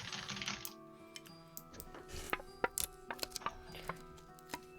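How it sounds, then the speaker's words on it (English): A loud computer keyboard clacks with irregular, sharp keystrokes, close and distinct, spaced unevenly across several seconds over a low background hum, without any talking. "It's just my keyboard's really loud."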